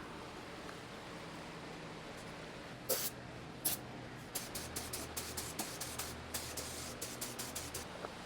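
A spray can lays light coats of paint on a 1976 Triumph Spitfire, faint at first, then short bursts followed by a run of quick, evenly spaced hissing sprays.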